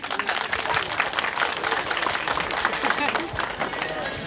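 Applause from a panchayat gathering audience, steady and fairly loud dense clapping with crowd murmur throughout, sustained across the whole stretch.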